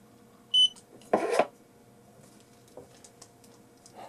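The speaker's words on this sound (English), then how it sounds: "it's beeping but not putting numbers in" An old Telxon Quickscan barcode scanner giving a single short high beep, followed by a brief rustling clatter and faint handling noises in a quiet room.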